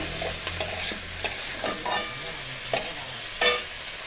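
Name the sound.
stirring green tomatoes and green chilies with vegetables in pan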